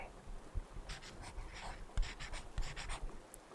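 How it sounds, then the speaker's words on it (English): A pen scratches across paper close by, with short uneven strokes and small taps that come in quick bursts, quiet and with no one speaking. "I'm gonna write it down on my paper."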